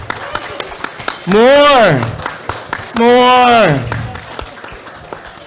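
Scattered audience clapping rattles through a panel session at the Japan Indonesia Innovation Summit 2022. Two long, loud voiced whoops rise over it, and a short spoken word is heard near the start.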